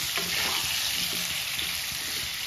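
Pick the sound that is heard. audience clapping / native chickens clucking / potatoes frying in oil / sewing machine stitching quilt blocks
potatoes frying in oil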